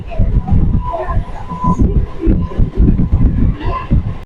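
A local train pulls into a station on the Howrah line in West Bengal, its low rumble blending with a busy platform crowd and steady, close voices throughout.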